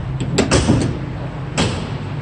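Rear cargo doors of a 2018 Ford Transit T-150 mid-roof short-wheelbase van swinging open, giving a few close mechanical clunks and latch knocks with a low hum underneath.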